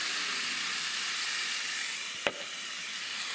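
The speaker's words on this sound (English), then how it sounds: "we're gonna add a cup of quinoa, and we're gonna add 3 cups of vegetable stock" Vegetable stock going into a hot pan of quinoa, broccolini and mushrooms gives a steady, fairly loud hiss and sizzle that holds throughout, broken by one sharp tap near the end.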